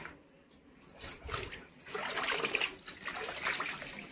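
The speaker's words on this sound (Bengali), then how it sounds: "দেওয়াল চুয়ে চুয়ে জল আসছে না, জল পড়ে পড়ে এই জায়গাটা এরকম হয়ে গেছে" Indoors, water seeps down a wall and drips in faint, irregular trickles and splashes that swell and fade.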